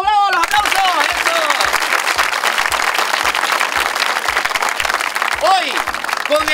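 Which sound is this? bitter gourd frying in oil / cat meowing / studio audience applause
studio audience applause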